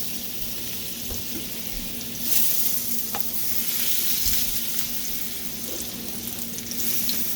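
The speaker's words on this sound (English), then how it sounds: "In the same pan, we're going to add the 2 tablespoons of butter." Two tablespoons of butter sizzle in a pan just used for shrimp, a continuous close frying hiss that swells midway with a few faint clinks and scrapes, no one talking.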